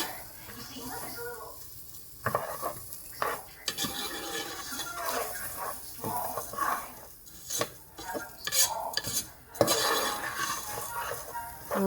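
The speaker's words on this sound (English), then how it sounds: "still stirring" Garlic and rice being stirred in a pan with a utensil, producing uneven scraping and clinking strokes at close range, with a voice speaking intermittently over the stirring.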